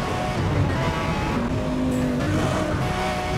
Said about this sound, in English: The sound of it when it is downgrading or upgrading the gears, it kind of makes like a MIDI soundtrack.